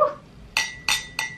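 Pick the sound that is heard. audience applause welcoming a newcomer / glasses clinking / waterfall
glasses clinking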